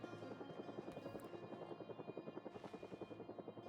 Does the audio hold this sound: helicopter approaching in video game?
yes